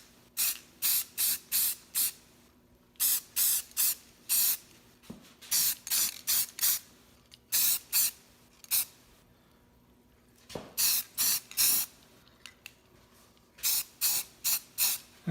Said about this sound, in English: Now I'm going to give it a quick spray paint